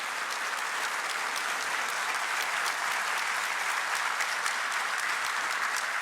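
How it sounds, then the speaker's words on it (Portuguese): Sustained applause from a large audience at a Brazilian government handover ceremony welcomes General Braga Neto, a steady dense clatter of many hands that holds evenly throughout without any voices over it. "vamos receber com uma salva de palmas esse general extraordinário, que é o general Braga Neto"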